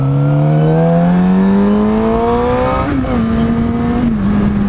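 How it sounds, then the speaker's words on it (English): A 600cc starter motorcycle rides through road traffic with a loud, steady engine drone whose pitch climbs smoothly as it accelerates, then dips and levels off as it shifts, close and continuous with no talk. "as soon as I beat this traffic"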